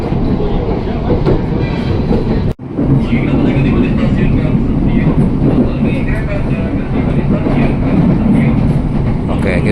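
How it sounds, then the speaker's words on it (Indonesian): A KRL commuter train bound for Kampung Bandan via Pasar Senen rumbles loudly into Kemayoran station, a steady close rolling roar with a brief sharp clunk early on, continuing without pause. "langsung datang lagi komuter tujuan Kampung Bandan via Pasar Senen"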